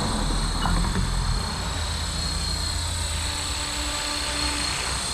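Blade Fusion 360 RC helicopter on a test flight after repair in a breezy field, its steady high rotor and motor whine hovering at moderate distance with a constant hum and mild wind noise.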